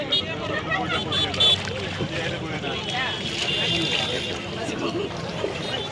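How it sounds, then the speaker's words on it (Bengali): Boat ride on Niladri Lake at Tekerghat, Taherpur, with water and wind noise rushing steadily past the microphone while several people chat and call out nearby throughout. "অলরেডি আমরা নৌকা চললাম"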